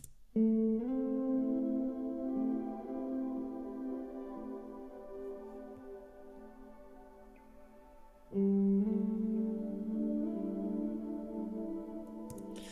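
A sustained electric guitar chord rings out with heavy reverb and delay tails and a swirling, sweeping flanger; it fades, then a second strum rings out with the same effects.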